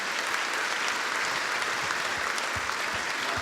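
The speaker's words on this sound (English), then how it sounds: "So they deserve another round of applause." A crowd at a cricket event claps in steady, dense applause that holds evenly throughout with no talk over it.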